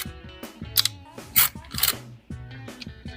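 Metallic clicks and snaps of the bolt catch and other controls being worked on a SIG Sauer MCX Rattler rifle in .300 Blackout, several sharp close-up mechanical clacks in quick irregular succession.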